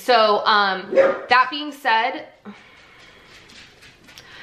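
A pet dog at home barks and yips several times in quick bursts, close and loud, then fades to quieter room noise while a person starts talking.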